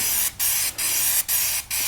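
Adhesive sprayed from a can onto a car door trim panel: four short, loud hissing bursts in quick succession, each separated by a brief pause.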